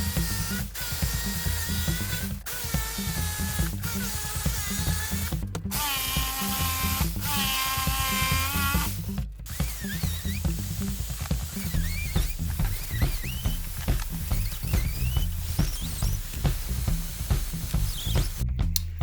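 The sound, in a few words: jigsaw cutting wooden sections for jerk boxes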